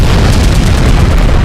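Loud, dense explosive gunfire blasts from a movie action scene, a continuous booming roar of heavy shots filling the whole stretch before cutting off abruptly at the end.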